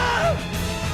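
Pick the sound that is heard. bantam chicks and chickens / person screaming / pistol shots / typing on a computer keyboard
person screaming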